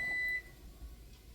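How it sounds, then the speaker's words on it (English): One steady electronic beep from a microwave timer, sharp and clear, fades into a faint background hum. "There's the timer."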